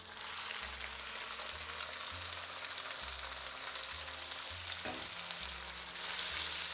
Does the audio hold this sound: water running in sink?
no